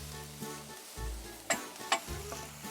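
Onions and peppers frying in olive oil in a pan for a Mediterranean mushroom orzo, a soft steady sizzle with a few sharp crackles and stirring clicks, close and quiet, with no voices.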